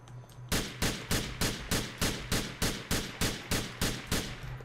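Rapid, evenly spaced gunshots in Grand Theft Auto IV, about a dozen sharp cracks in a steady rhythm, loud and close with no voices.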